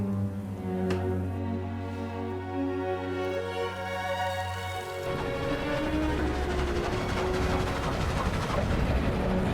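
A train running in the Roblox game Dead Rails gives a steady, humming engine drone with layered tones, then shifts midway into a broader, noisier rumble; no one speaks.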